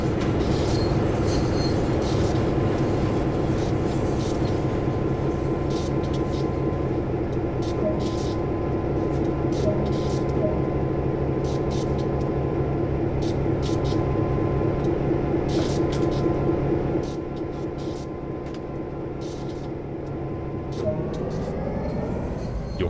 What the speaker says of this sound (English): GP9RM diesel locomotive